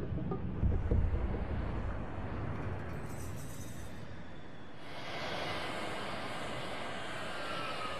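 A high-altitude jet aircraft flies with a broad, steady roar and rush. The sound is even and sustained, with a brighter hiss that comes in partway through, and there are no voices.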